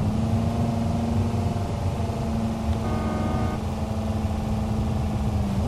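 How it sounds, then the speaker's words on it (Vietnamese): A Lamborghini's engine in the video game Euro Truck Simulator 2 runs as a steady, loud, continuous drone with a strong low hum, holding its pitch throughout with no talking. "Đây là tiếng máy thường đấy nhá, mình chưa có nẹt bô đấy"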